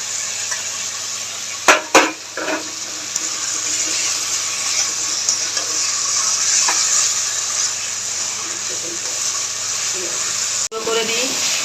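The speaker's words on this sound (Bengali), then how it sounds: "দিয়ে ভালো করে নাড়তে নাড়তে মাছটা পুরো শুকনো শুকনো করতে হবে" Lote fish with slit green chillies being stirred and fried dry in a pan, giving a steady, close sizzle with a few sharp utensil knocks early on and another near the end.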